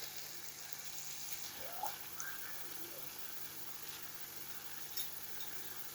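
Faint, steady sizzling hiss of sautéing in a pan while cooking shiro stew, continuous throughout with a few soft stirring clicks and no voices.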